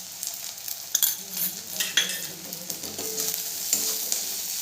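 Cumin and turmeric powder frying with chili in a pan while making Bengali-style aloo paratha filling: a steady close sizzle broken by a few sharp spoon scrapes and clinks as the spices are stirred.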